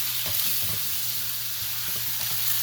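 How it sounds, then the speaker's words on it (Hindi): Mutton pieces frying in a pan for Kabuli pulao give a steady, close sizzle throughout, with faint stirring scrapes and clinks on top, no voices. "इसको थोड़ा सा फ्राई करना है और फिर निकाल लेना है।"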